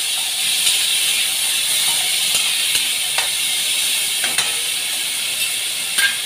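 Tomato and ginger sauté in a pan for a jowar-flour dosa recipe, giving a steady, bright sizzling hiss throughout, with a few faint clicks and scrapes and no voices.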